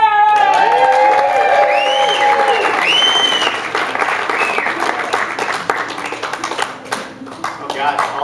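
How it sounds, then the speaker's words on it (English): Applause and cheering from the audience at a community ukulele workshop, with whoops and a few high shouts over dense clapping at first, then the clapping thins and trails off while people talk. "Oh God, all that applause,"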